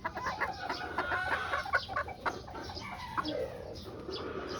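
A pure white Kelso pullet with a straight comb and white legs, part of a breeding trio, gives soft clucks and short calls. It is faint and close, with other birds and some rustling in the background and no talk.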